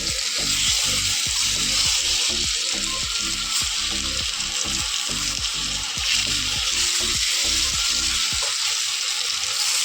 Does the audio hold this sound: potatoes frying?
yes